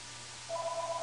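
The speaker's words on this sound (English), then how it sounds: "Can you shut up, phone?" A phone rings alone as a steady electronic tone that starts halfway through, with soft pulsing over a constant background hiss.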